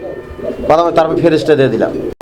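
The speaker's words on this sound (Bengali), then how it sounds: "দর্শক আমরা এই মুহূর্তে দেখতে পাচ্ছি এখানে আরো এক জোড়া কবুতর" Pigeons coo at a pigeon market where domestic and foreign birds are sold: soft, repeated, throaty calls close by, overlapping someone speaking.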